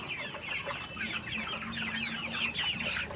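Brown cocks and hens on a farm cluck and chatter continuously at close range, a dense overlapping flock murmur at moderate volume with no speech.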